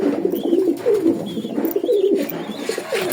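Pigeons in a loft give soft, repeated throaty coos in a rolling rhythm, close and fairly loud with no talk over them.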